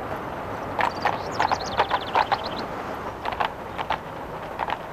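Horse hooves clip-clop in an uneven walking rhythm, a series of sharp, fairly close knocks over a quiet outdoor background.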